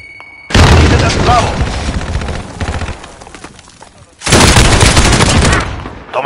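A grenade blast followed by sustained gunfire in Call of Duty Modern Warfare, loud and close, with a burst of firing, a brief lull of scattered shots, then a second heavy volley.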